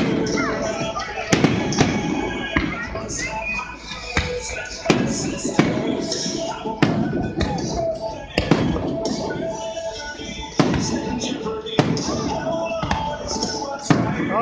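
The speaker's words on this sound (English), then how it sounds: "I've been standing here watching fireworks over 30 minutes already." Independence Day fireworks burst over uptown Charlotte, North Carolina, in a steady barrage of sharp booms and crackles every second or two, layered over a constant crowd murmur with voices talking throughout.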